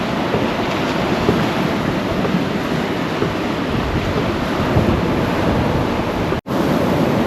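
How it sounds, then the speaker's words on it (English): Continuous roar of surf breaking on a wide, flat beach on St. Simons Island near low tide, mixed with buffeting wind on the microphone and one brief dropout near the end. "We are getting almost at low tide, so let's go out and walk on the beach."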